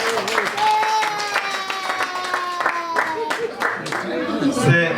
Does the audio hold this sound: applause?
yes